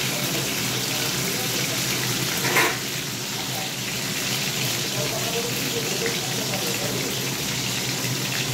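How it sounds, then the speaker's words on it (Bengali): Pointed gourd and potatoes fry steadily in a pan with a continuous close sizzle that holds even throughout, broken by one brief clatter near the start. "পটল ভাজাটা প্রায় হয়ে এসছে"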